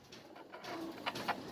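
Pigeons cooing on a farm in Mirpur, Dhaka, soft low coos with a few brighter rising calls near the end, fairly close against faint background noise.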